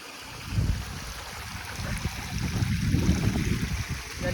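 Water from a waterfall rushes and gurgles in a steady, broadband flow, rising slightly in the middle, heard outdoors at moderate distance with no speech.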